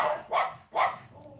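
Two sharp barks from pet dogs at home ring out about half a second apart, moderately loud and alone, followed by a quiet room.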